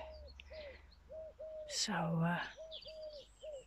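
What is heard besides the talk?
bird calling outdoors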